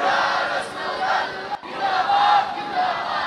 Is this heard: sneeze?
no